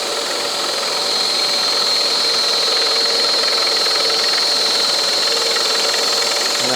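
A scroll saw blade cuts through a wooden workpiece with a steady, dense buzzing rattle and a high whine, continuous and close for the whole stretch.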